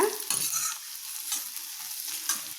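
Fried paneer is stir-fried with carrot, beans and peas for paneer fried rice, giving a continuous bright sizzle with scraping stirring strokes, close and fairly loud, with no talking.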